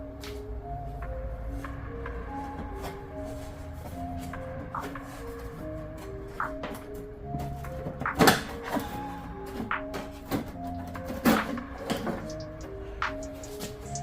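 A carbon fiber engine bay side panel is worked loose from a Dodge Challenger, with soft plastic scuffs and shuffling, a faint ticking, and a couple of sharper knocks and clacks near the end, close by with no speech.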